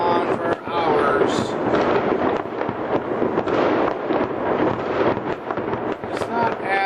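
Fireworks boom and crackle continuously, with loud overlapping bursts, steady crackling and wind buffeting the microphone.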